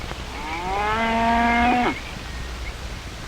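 A single cow lows in a pasture on a grassland farm, one long drawn-out moo that bends downward at the end. It sounds fairly close and carries clearly on its own with no voices.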